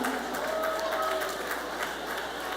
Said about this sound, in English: Clap your hands all over the room.